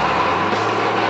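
A revving tractor pull engine at a championship pulling event, a brief, loud, steady roar with no pauses.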